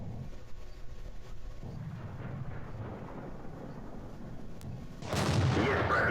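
A T-34-85 tank cannon fires in World of Tanks: a low rumbling battlefield bed gives way to one loud, booming shot near the end, followed by a sustained roar.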